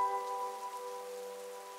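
Steady patter of rain falling on a surface, soft and continuous, with a faint tonal hum underneath and no voices.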